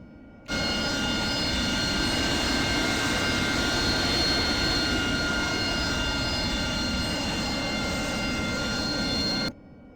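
AV-8B Harrier jet engine in the DCS flight simulator while taxiing, a steady loud roar with a high tonal whine running unbroken for about nine seconds, starting and stopping abruptly, with no talk.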